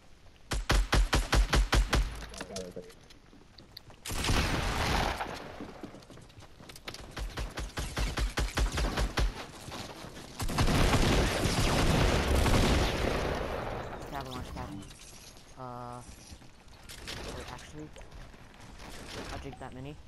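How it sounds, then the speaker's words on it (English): Rapid bursts of gunfire from a Fortnite-style building game, with fast automatic volleys and scattered single shots that come and go in waves, mixed with game sound effects and people talking over them. "Who's shooting?"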